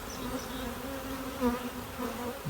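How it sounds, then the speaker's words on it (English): Steady, dense buzzing of a honeybee swarm moving into a hive, continuous and fairly close, with a slight swell in intensity midway. "we've got the majority of the bees going to the hive"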